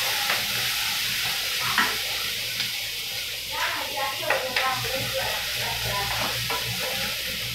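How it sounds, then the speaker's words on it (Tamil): Ingredients sauté in a pan with a continuous sizzle, overlaid by intermittent scraping and clinking of a spoon stirring against the metal, close and moderately loud. "நல்லா வதக்கிட வேண்டியதுதான்."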